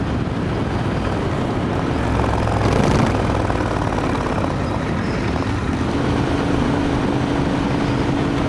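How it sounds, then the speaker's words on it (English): A Royal Enfield Interceptor 650 twin engine with its stock exhaust rumbles steadily and close, with a muted, broadband tone and some wind buffeting on the microphone. "It spins up quite freely, and it sounds great too, even with a stock exhaust."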